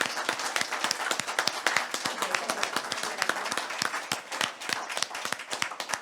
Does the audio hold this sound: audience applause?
yes